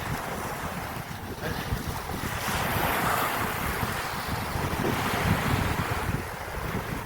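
Strong current and waves wash continuously along the shore at Caba Beach in La Union, Philippines, near high tide, a steady loud surf roar with wind buffeting the microphone throughout.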